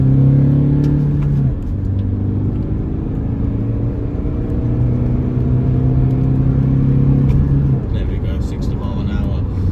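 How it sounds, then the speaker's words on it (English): A 2012 Kia Sportage 1.7-litre CRDi diesel pulls hard in second gear from about 20 mph, its engine note rising in a steady drone with a strong low rumble under interior road noise while someone talks throughout. "I'm going to shift it down to second gear, 20 miles an hour, pop my foot down."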